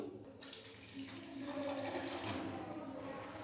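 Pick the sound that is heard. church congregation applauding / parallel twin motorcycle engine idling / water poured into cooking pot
water poured into cooking pot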